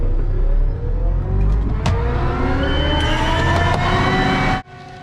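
A concrete truck's engine roars and revs steadily as it pulls away, loud and close, with a sharp clank partway through before the rumble cuts off abruptly.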